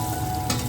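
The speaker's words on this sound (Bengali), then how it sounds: "এই যে এখন লুচি ভাজা চলছে।" Luchi deep-frying in hot oil for a Durga Puja meal in Switzerland, a steady close sizzle over a brief moment with a slight bubbling burst near the end.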